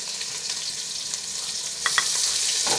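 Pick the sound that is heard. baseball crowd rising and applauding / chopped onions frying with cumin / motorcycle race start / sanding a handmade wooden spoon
chopped onions frying with cumin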